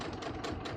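Sewing machine stitching a back tack, a steady rapid mechanical whirring with a regular needle rhythm, close and continuous for under a second.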